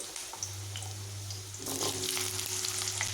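Cut potatoes drop into hot oil in a wok and fry with a crackling sizzle that swells after a moment, close and continuous, with a low hum underneath and no talk.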